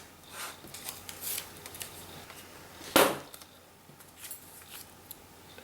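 A couple of quick, crisp scissor snips cutting stamping mask paper, with one sharper, louder cut near the end, over faint room noise and no talking.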